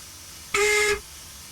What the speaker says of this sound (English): And then we've got a Z whistle as well.